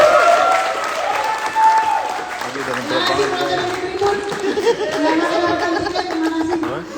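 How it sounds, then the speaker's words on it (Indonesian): Steady applause from a crowd at a candidate debate fills the whole stretch, with lively chatter and a few laughs mixed in. "Kita tepuk tangan dulu untuk kedua cewek-cewek."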